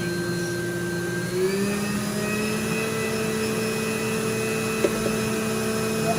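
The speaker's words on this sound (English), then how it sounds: "I'm going to put it on the highest speed to juice the dandelion greens" A juicer running at its highest speed on dandelion greens gives a steady, loud motorized whine with a droning hum throughout, and a brief knock near the end.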